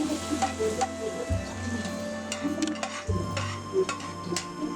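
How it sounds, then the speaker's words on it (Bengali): Onions fry in hot oil as a tempering for beef nehari made with paya, giving a continuous close sizzle with a steady hum beneath and scattered light clicks of utensils. "পেঁয়াজগুলোকে পায়ার মধ্যে দিব, বাগার দিব।"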